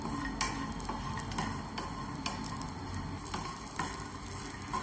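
Dry grated coconut roasts in a pan, stirred with a utensil that gives sharp, irregular scraping clicks over a soft low sizzle, close and fairly quiet with no talking.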